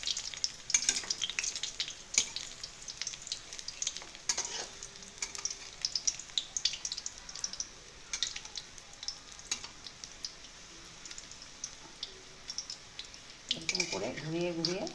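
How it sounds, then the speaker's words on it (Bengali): Meat-fat fritters (bora) frying in hot oil, a steady crackling sizzle with sharp pops and spatters as the pieces are turned, and a voice briefly heard near the end. "এরকম করে ঘুরিয়ে ঘুরিয়ে ভেজে নিতে হবে।"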